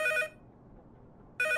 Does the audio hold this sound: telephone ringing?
yes